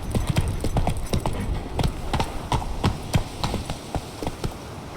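Roach, the horse in The Witcher 3, gallops along with steady, rapid hoof clip-clops in a fast rhythm, close and clear, with a soft ambient wash underneath.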